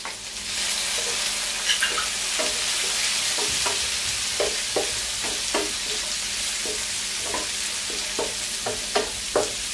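Onion and tomato sautéing in a pan for ginisang repolyo with tofu and tuna: a steady broadband sizzle runs throughout, punctuated by irregular scraping and stirring knocks of a utensil against the pan, close and moderately loud with no talking.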